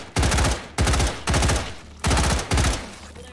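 A Bren gun fires full auto in the VR game H3VR: five loud, close bursts of rapid rounds with short gaps between them, no talking.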